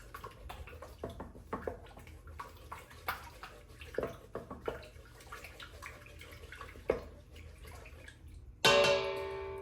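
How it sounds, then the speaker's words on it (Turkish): Sourdough starter and water being stirred together in a bowl for homemade sourdough bread, with soft wet sloshing and intermittent light clicks against the container, faint and close, ending in a brief louder burst. "Şimdi bunu bir mayayla suyu bir karıştırıyorum şöyle"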